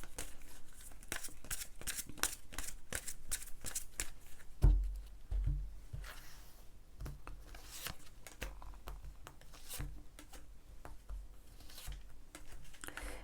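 Tarot cards shuffled and drawn from a deck at a reading table, a run of quick close riffling and flicking bursts with a soft thump midway, fairly quiet and with no speech.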